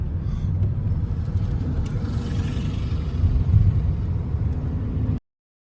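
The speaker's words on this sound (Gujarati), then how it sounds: "અહીંની સિટી બસ." A city bus passes along a street in Carmarthen, a small Welsh town: a steady, fairly loud mid-low engine rumble and road whir that swells slightly before cutting off abruptly.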